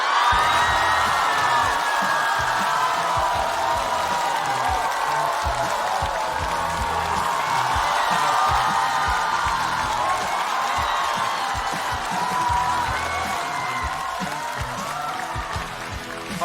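A stand-up comedy show audience welcomes comedian Luo Yonghao to the stage with sustained loud applause and cheering, a dense roar of clapping and whoops that holds steady for many seconds and eases slightly near the end.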